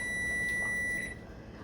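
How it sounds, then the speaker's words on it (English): A timer goes off during a preschool rainbow spaghetti activity, giving one steady, high electronic beep that lasts about a second, fairly faint against a quiet room. "there's our timer"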